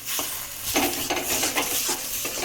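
Taro stem cooks down with ground spice paste in a pan, with repeated scraping stirs over a steady close sizzle and no voices.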